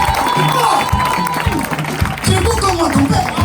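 A church congregation claps and cheers loudly, a thick mix of applause and crowd voices over strong talk.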